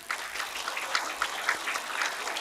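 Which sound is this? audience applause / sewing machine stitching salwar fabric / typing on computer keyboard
audience applause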